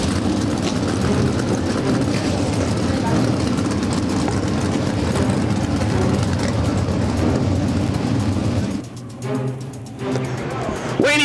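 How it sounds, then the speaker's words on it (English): Race car engines at an outlaw feature race, with methanol-fuelled cars, fire up and idle together in a dense, steady low rumble that continues loud throughout, with a brief dip near the end. "Gentlemen, start your engines!"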